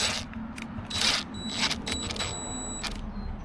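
A socket wrench works a bolt on an engine with leaking heads and overheating problems, giving close, quick runs of metallic ratchet clicks, with brief pauses between bursts.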